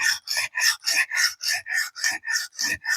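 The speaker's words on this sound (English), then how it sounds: "just keep grinding away at it until you feel a relatively uniform burr" A camp knife edge scrapes against a sharpening stone in even back-and-forth strokes, about four per second, close and loud, with no talking.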